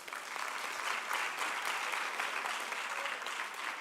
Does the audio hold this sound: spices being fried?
no